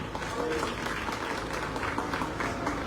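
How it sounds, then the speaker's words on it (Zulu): Applause from a crowd at a municipal gathering in eThekwini, Durban, with a steady wash of clapping that runs at an even, moderate level through the whole stretch. "Cala lishayele ihlombe lalokho."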